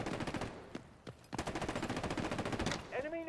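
Rapid machine gun fire in the Delta Force shooter game, loud sustained bursts of rhythmic shots with a short pause near the middle, then more automatic fire ending in a ringing tail.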